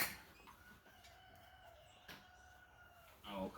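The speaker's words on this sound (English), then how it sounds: "I'm sorry about the rooster" A rooster lets out a faint, distant crow, with a few short calls and squawks over quiet outdoor ambience. No one speaks.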